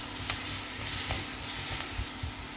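Ginger paste sizzles in hot oil in a pan for a tomato curry, a close, steady frying hiss with a few soft stirring scrapes and no talking.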